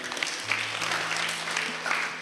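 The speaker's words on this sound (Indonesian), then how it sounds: "tepuk tangan untuk Bantu dan tim" Applause at a youth church service for Bantu and the team, a short burst of clapping from the gathering with faint talk and a low tone underneath.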